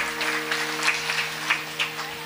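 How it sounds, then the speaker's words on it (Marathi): An audience applauds loudly during a Marathi devotional kirtan discourse, a dense, steady crackle of clapping lasting the whole moment over a faint constant hum, with no voices on top. "जोरदार टाळ्या"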